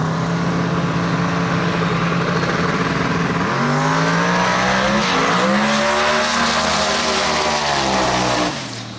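Ford and Chevrolet race cars at a street race shakedown run side by side, engines roaring loud and close with rising revs and tire noise, the sound swelling then cutting off abruptly near the end.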